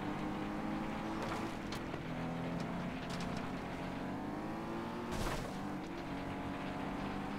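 A race car engine in FlatOut 2 drones steadily and shifts back into third gear, its pitch dipping and climbing again mid-run, a continuous mechanical hum with a brief surge near the end.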